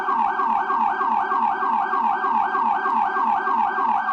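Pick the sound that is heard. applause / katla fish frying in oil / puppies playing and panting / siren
siren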